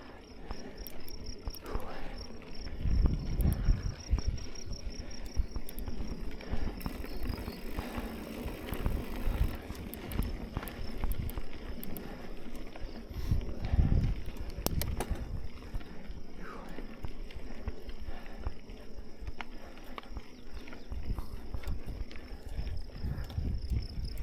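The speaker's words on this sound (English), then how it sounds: "you can hear the crickets" Faint, steady cricket chirping runs throughout on a canyon bike trail, nearly masked by louder low rumbling and scattered knocks and rustling up close.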